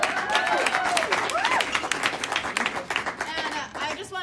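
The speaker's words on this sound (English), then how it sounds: "Can I get a round of applause?" Audience at a cocktail book launch applauds, a continuous spatter of claps with a few cheers and voices rising over it, moderately close and sustained throughout.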